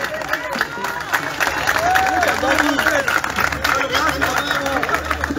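An outdoor crowd at a Day of Music celebration applauds a municipal band, with loud, sustained clapping mixed with cheering and crowd chatter.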